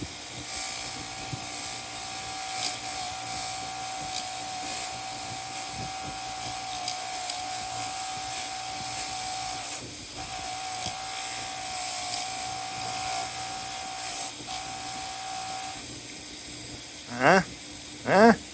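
A 3M Scotch-Brite disc on a power tool spins steadily against battery isolator relay contacts from a 2007 Monaco Dynasty, a continuous high whine with a dip midway, ending in two short revving bursts.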